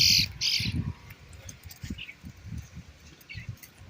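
Baby bluebird squawking outdoors in wild country near the ground, a few faint high chirps over rustling and low thumping handling noise, with a person's voice briefly present.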